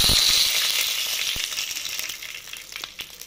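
Garlic, mustard seeds and cumin sizzle and crackle in hot oil in a pan for a South Indian dal, a loud close frying hiss that gradually settles, with a few sharp pops.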